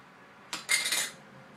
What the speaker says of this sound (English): take the lid off.